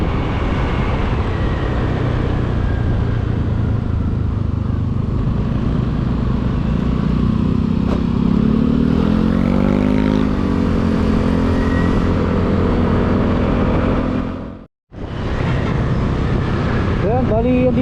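Riding by motorcycle along Dependencia Road toward Daang Kalikasan in Mangatarem, Pangasinan, with a loud steady engine drone and heavy wind buffeting throughout, a slight rising rev midway and a brief dropout near the end.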